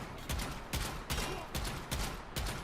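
Zenith rifle secondary fire in Warframe, a run of sharp gunfire bursts roughly every 0.4 seconds, loud and close with a dense, noisy texture and no talk.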